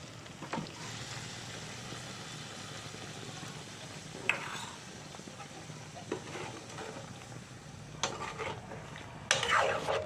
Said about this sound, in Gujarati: આ લીલી ચટણી આપણે બનાવેલી છે એ નાખી દઈશું